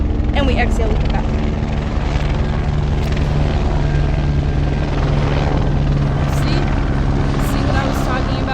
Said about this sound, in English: that's a police helicopter. It'll probably circle back around